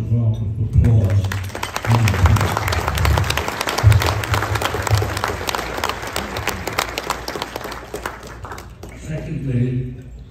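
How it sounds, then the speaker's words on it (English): A Knights of Columbus state gathering bursts into a long round of applause for themselves, dense clapping from a large crowd that swells and then tapers, with a speaker's voice at the start and end. "You can give yourselves a round of applause."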